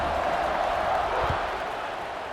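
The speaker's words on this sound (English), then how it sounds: "this crowd is buzzing after that last score" Crowd at a football stadium buzzes as a steady, dense roar of many voices, loud and continuous across the moment.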